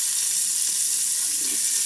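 Filet mignon frying in a pan gives a steady, bright sizzle throughout, close and even, with no voices.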